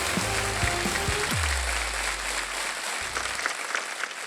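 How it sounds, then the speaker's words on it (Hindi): Studio audience applause on the Hindi Wheel of Fortune game show, steady clapping running under a brief musical sting and a low sustained tone that fades out partway through. "जोरदार तालियां"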